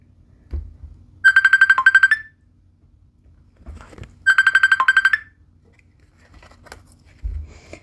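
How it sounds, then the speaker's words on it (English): A phone ringtone plays in two clear bursts of rapid repeated electronic beeps, each about a second long, separated by a pause with soft thumps and handling noise in between; no one talks. "I just got a phone call."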